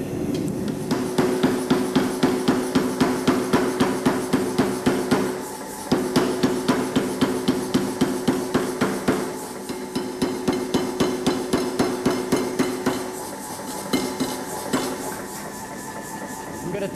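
A power hammer with a flattener pounds hot metal, tapering a bar end for a garden gate, in rapid loud regular blows that run almost continuously with brief pauses.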